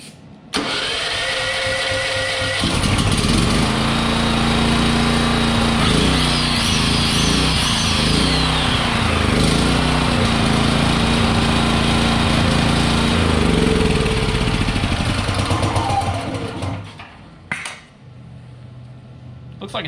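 A pallet-auction generator engine is cranked and fires up, runs loud and close with a steady chugging drone, surges briefly under an electrical load, then sputters and shuts off near the end.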